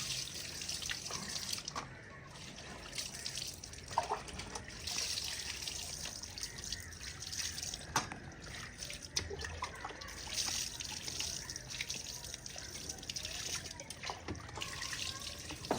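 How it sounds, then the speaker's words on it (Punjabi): Meat is washed under running water in a village kitchen, giving a faint, steady trickle and splash that runs throughout with small drips and clatters. "ਮੈਂ ਆਖਿਆ ਪਹਿਲੇ ਗੋਸ਼ਤ ਧੋ ਲਵਾਂ"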